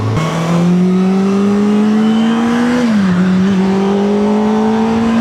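A Kawasaki ZX6R sport motorcycle engine holds a steady, loud, close-up drone after starting, its pitch creeping upward, dipping briefly, then climbing again through the whole stretch with no talking.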